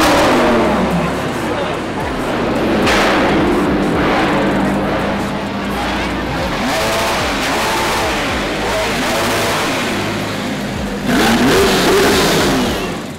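Sports cars rev and roar through the streets of Montreal during the F1 Canadian Grand Prix weekend, loud sustained engine noise with rising revs and a sharp burst near the end, voices mixed in among the crowd.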